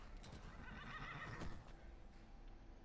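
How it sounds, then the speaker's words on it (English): A horse in the Terrafirmapunk Minecraft modpack gives a quiet whinny, a brief wavering neigh rising and falling over faint hoof clatter. It sounds soft and somewhat distant. "let me grab my horse"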